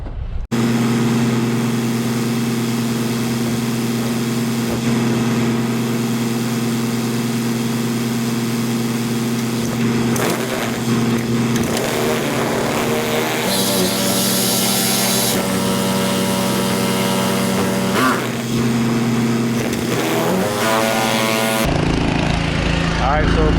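Pump and air compressor running while loading a sprayer for side dressing tall corn with a Willmar 765, a loud steady engine drone throughout with shifting mechanical tones, cutting off near the end; someone talks over it.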